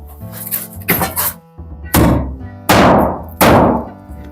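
Several heavy hammer blows, each a loud thudding whack, spaced about a second apart, with brief talk and clatter before the first strikes.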